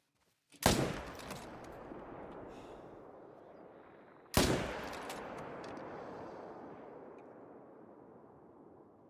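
Two loud rifle shots ring out at a saltwater crocodile in a hunting video game, a few seconds apart. Each is a sharp crack followed by a long, rolling echo that fades slowly, with no talking.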